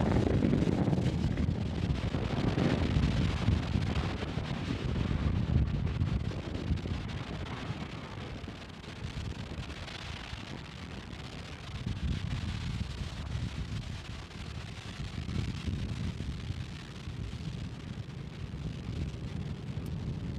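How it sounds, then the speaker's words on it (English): SpaceX Falcon 9 rocket lifting off from Space Launch Complex 40 carrying a Cygnus spacecraft, a loud continuous low roar and rumble with windy buffeting that eases slightly partway through and keeps going; no one speaks. "Falcon 9 and Cygnus take flight"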